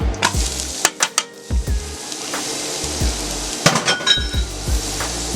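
Onions hit hot vegetable and sesame oil in an electric pressure cooker on sear mode, a steady sizzle and fry under repeated clinks and scrapes of a utensil against the pot.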